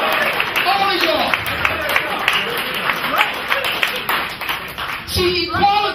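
Scattered clapping from a few audience members at a lecture, loose and uneven hand claps running under a man's continuous speech.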